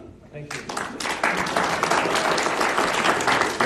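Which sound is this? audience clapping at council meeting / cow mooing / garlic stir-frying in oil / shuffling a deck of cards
audience clapping at council meeting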